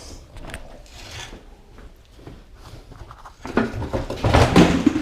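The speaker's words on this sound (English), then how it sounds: "all we do is we put the strut into the vise" A Ford Capri 1600 front strut is set into a bench vise, with scattered metallic knocks and handling noises, growing louder as the vise is clamped in the last second and a half; no talk.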